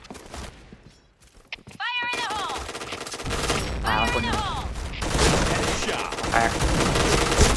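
Rapid bursts of automatic gunfire from the online shooter Point Blank crackle steadily and loudly over several seconds, mixed with game effects and someone talking over the shooting.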